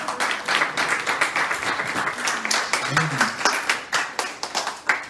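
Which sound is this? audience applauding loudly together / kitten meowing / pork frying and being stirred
audience applauding loudly together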